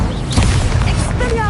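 A fiery spell impact from the Incendio fire charm in Hogwarts Legacy on PS5: a dense, roaring burst that stays loud and steady throughout, with bright crackling tones near the end.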